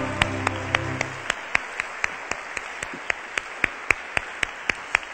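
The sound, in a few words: congregation applause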